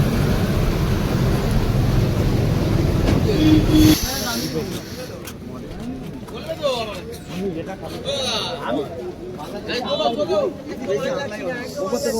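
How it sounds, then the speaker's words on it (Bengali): A train approaches at a railway crossing at dawn, a loud rumbling roar that fills the first few seconds and then gives way to nearby voices and chatter. "এই ট্রেন আসছে"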